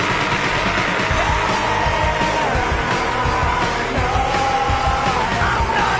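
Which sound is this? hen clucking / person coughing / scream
scream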